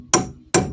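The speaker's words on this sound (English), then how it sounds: "I'm just going to tap this little guy back down in there." Two sharp metallic taps of a punch knocking a brake lock tab down on a Geo Metro drum brake, evenly spaced about half a second apart, close and crisp, with no talking.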